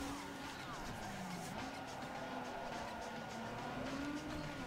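Car engine revving with sustained tire squeal while drifting in Need for Speed Underground 2, a continuous steady roar and screech at even loudness throughout, with a voice faintly over it.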